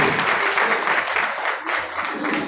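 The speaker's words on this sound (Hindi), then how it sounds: "जोरदार तालियां बजाएं" Sustained, loud applause from an audience at an education movement prize ceremony honouring a student, a dense steady wash of clapping with a few brief dips.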